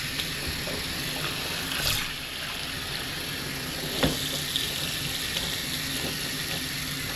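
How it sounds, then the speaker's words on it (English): Warm water runs steadily from a tap into a cabin sink on a cruise ship, splashing onto a stained garment being washed. It makes a constant close hiss with a few small splashes and no talk. "Just gonna let the warm water get right on that stain."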